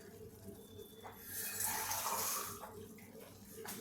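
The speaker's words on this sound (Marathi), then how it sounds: "म्हणून मी अगदी थोडं पाणी यामध्ये टाकते" Water poured into a dal and brinjal curry, a soft splashing pour that swells in the middle of the clip and then tapers, heard over a low background hum.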